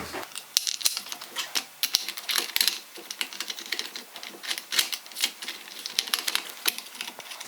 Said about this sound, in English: put our pad back on the face of our sander and put the screw